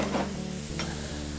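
Cheesesteak meat and onions sizzle on a hot griddle, a steady close frying hiss broken by a couple of scraping stirs, with no voices.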